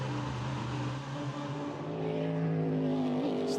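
A BMW race car in the closing minutes of the 2019 12 Hours of Sebring drives past, its engine a steady loud drone that swells slightly near the end, with another car audible close behind.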